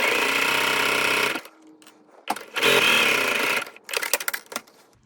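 A sewing machine stitches clear elastic into a fabric seam, loud steady whirring runs in three bursts separated by brief pauses and small handling clicks.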